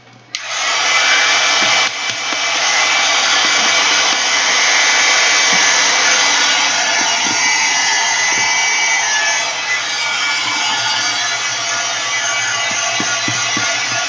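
A dryer blows steadily to dry a painted collage bag, a loud, continuous whooshing hiss that starts abruptly and holds for the whole stretch, close by, with faint handling knocks beneath it.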